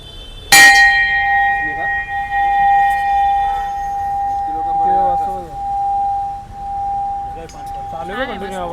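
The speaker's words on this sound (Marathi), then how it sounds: "चालू है कंटिन्यू आवाज. घंटे का आवाज बढ़ेगा." A bell at Crawford Market in Mumbai rings continuously as one loud, sustained metallic tone that starts sharply and holds steady, while voices talk nearby over a busy market background.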